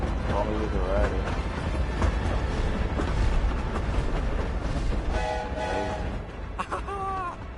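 A train passes in the Hogwarts Legacy video game, a steady loud rumble running the whole way with repeated horn-like tonal calls near the end, while people talk over it.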